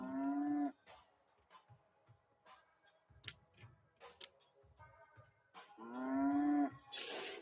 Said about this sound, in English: That's how the goats sound before they get evil.